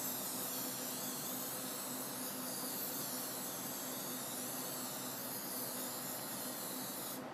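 Cooking spray misted over flipped tortilla chips for baking, a continuous close hiss that holds steady for several seconds and then cuts off abruptly at the end.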